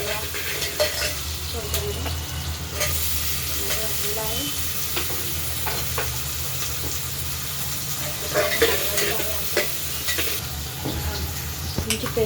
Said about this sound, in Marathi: हे पहा तेल खूप गरम झालेलं आहे. त्यामध्ये आपण कांदा घालूया. कांदा घातलेला आहे. त्याला हलवत राहायचं आपल्याला.